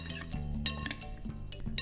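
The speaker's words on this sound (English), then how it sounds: "Give this a quick stir" A utensil gives a quick stir to a chilled dish being prepared in a home kitchen, with several light clinks and scrapes against the bowl over a steady low hum, close and fairly quiet.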